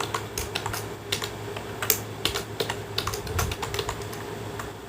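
A command is typed on a computer keyboard during a GeoGebra drawing session, giving quick, light, irregular key clicks close by over a steady low background hum.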